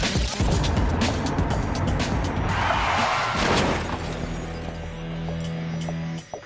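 Police patrol car crashing mid-pursuit during a 130 mph chase after a Mercedes: road and engine noise build to a loud burst of impact and scraping around the midpoint, followed by a steady engine hum and a lingering tone.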